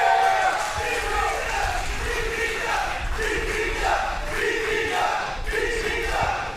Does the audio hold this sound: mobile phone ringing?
no